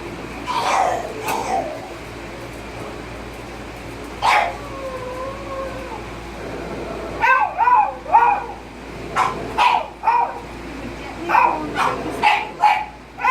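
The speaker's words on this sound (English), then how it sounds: "So have our dog right here." A dog barks and yips during a veterinary nursing demonstration of a rabies hold, with a few sharp barks early, a whimpering whine in the middle, then a run of repeated close barks.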